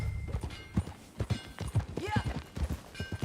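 Horse hooves clip-clop at a steady riding pace in Red Dead Redemption 2, the rhythmic thuds close and fairly loud beneath occasional spoken dialogue.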